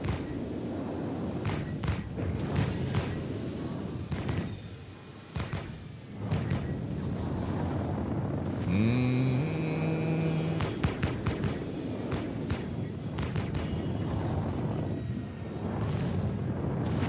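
Missile explosions detonate close to a ship in a space video game, a dense rumbling roar of blasts and booms running throughout, with a brief tonal warning chirp midway.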